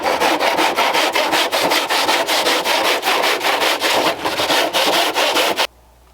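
Rapid rhythmic rasping of a tool shaving down foam tombstones made from fence post foam, steady back-and-forth strokes close by that stop abruptly near the end.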